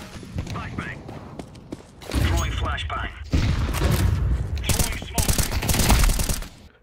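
Rapid automatic gunfire sprays in CS2, a competitive shooter, with bursts of shots and heavy booms building in loudness, mixed with game effects while a player talks over it.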